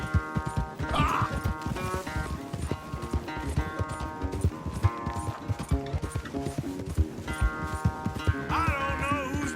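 Horse hooves clip-clop in a fast, steady gallop in Red Dead Redemption 2, loud and close, with a whinny and game music running underneath.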